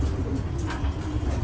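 Racing pigeons cooing at a home loft on the first day of the racing season, a steady low murmur of soft coos going on throughout with some faint chirps over it.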